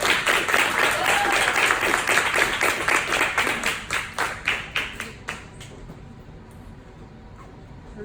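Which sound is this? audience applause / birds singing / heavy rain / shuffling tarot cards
audience applause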